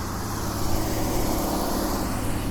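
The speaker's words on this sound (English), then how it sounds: "You can hear all these cars go by" Cars pass by outside as a constant loud wash of road traffic noise, broad and steady, with no voices.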